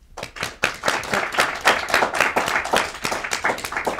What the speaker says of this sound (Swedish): jag tänkte att vi börjar med att välkomna henne med en applåd